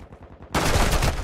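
A weak gun fires in a video game shooter, a loud dense burst of rapid shots that breaks in suddenly after a quieter start.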